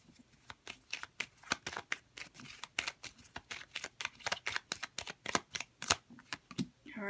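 Tarot cards shuffled by hand, a rapid run of crisp riffling flicks and snaps in a steady rhythm, close and quiet with no talking.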